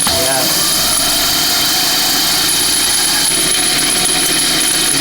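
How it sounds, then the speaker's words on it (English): Steady whirring hum of a spherical-wheeled electric bike's wheel spinning freely and overrunning its clutch, a continuous motor-like drone with high whine held at an even level throughout. "wait for the wheel to stop overrunning the clutch, basically"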